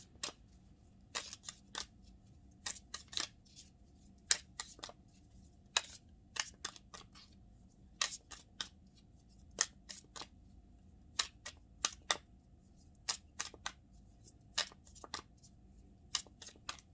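Tarot cards being shuffled and handled for a relationship reading, giving repeated short crisp riffles and snaps in irregular bursts, close and fairly quiet, with no talking.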